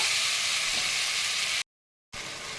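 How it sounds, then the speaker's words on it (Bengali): Spice paste frying in a pan for a banana-blossom kofta curry, a bright continuous sizzle close to the mic that cuts out to dead silence for half a second before resuming. "মশলাটা আমি এবার ভালো করে কষিয়ে নেব"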